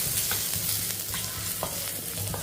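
Steady sizzling of garlic frying in hot ghee, with occasional stirring scrapes, close and continuous.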